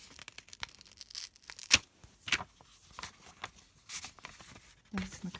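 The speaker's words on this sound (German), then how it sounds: "dann mache ich jetzt erstmal den Umschlag auf" Paper envelope from an advent calendar being torn open, with several short, sharp ripping bursts and crinkles separated by quiet pauses, close to the microphone.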